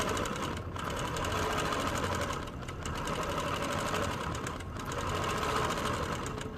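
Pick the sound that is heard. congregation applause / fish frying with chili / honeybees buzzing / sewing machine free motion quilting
sewing machine free motion quilting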